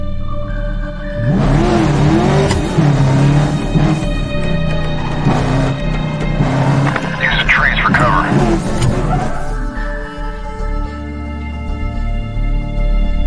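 A car accelerates in the video game Medal of Honor Warfighter, its engine steadily revving over a rumbling, busy mix with music, with voices speaking alongside.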